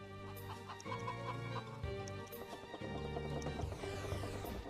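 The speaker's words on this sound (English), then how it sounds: "protect the chickens" Chickens cluck and squawk in a Shrek Extra Large video game level set in Merlin's dark tower, repeated close clucks over a droning musical score.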